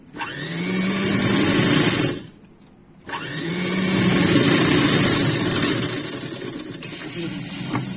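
An electric sewing machine runs steadily while stitching blouse pleats, a close, loud whirring hum that stops briefly, then starts again and carries on with light clicks near the end, under a voice.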